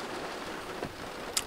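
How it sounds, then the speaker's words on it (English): Steady rain falls near the North Santiam River, a continuous soft hiss at low level with a couple of faint drips or taps standing out briefly. "it is a rainy view."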